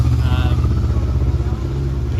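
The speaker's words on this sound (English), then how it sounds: "Peter Griffin is just leaving there now. On a motorbike." A motorbike pulls away, its buzzing engine note holding steady, then thinning slightly as it moves off, with voices murmuring underneath.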